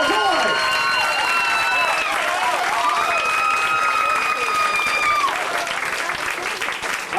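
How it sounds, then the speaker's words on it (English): A comedy club audience applauds and cheers a first-time stand-up comedian, dense sustained clapping filling the room while a host's amplified voice calls out over it. "A big hand, please, for Joe Lloyd."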